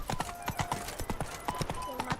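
Roach, the horse in The Witcher 3, clip-clops along in a steady, close rhythm, with speech over the hoofbeats.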